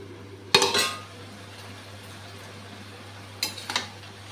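A metal lid clanks onto a cooking pot of bottle gourd and prawn curry, ringing briefly. A second, softer rattle of the lid follows a few seconds later over a faint steady hum.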